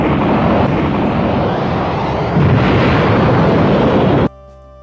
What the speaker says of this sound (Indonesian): Super Buu mengeluarkan pancaran energi yang besar yang ternyata ia akan meledakkan diri